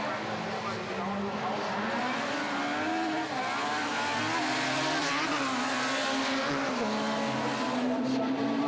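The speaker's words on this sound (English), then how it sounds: "very difficult to find some traction with these front wheel drive cars" Front-wheel-drive rallycross cars racing on a muddy track at Buxtehude, Germany, engines revving and droning continuously as they pass, with a commentator talking over the noise.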